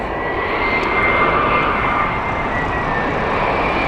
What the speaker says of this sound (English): Next up, we have the 787 from Portland.